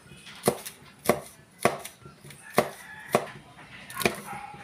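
A knife chops small green chili peppers on a cutting board for sizzling sisig, striking in steady, evenly spaced thuds about every half second, close and clear with no talk.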